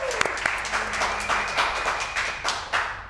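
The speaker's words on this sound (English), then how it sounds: "give her a round of applause as she sits in the chair." A studio audience at a fringe-festival interview show claps for a guest taking her seat, a brief burst of steady applause of moderate loudness with no talk over it.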